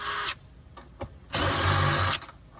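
A power drill runs in reverse, backing out the rear seat bolts of a Toyota Prius. It whines in a short burst, gives two quick blips, then spins in a longer steady run, close and fairly loud.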